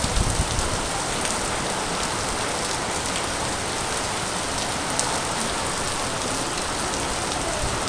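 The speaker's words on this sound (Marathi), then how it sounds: "एवढा जबरदस्त पाऊस पडतो आहे ना, हे बघा सरीवर सरी चालू आहेत" Heavy monsoon rain pours steadily over a Konkan village, a dense, unbroken hiss of drops drumming on surfaces at close range with no voices.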